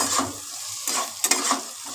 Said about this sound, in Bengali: এবার ভালো করে ভেজে নেব আলুটা গাজরটা